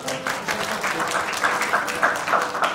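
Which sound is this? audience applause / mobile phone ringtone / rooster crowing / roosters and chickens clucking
audience applause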